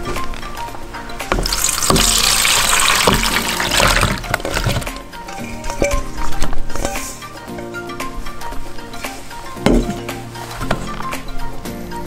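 Water pours and splashes out of a container of soaked sliced potatoes being drained, a loud gushing rush lasting several seconds, then tapering into trickles and a few knocks.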